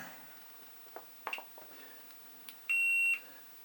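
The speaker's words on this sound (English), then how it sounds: "Buzzing." A DreamCatcher Futura handset controller emits a single short high-pitched electronic buzz near the end, preceded by a few soft clicks and handling taps in a quiet room.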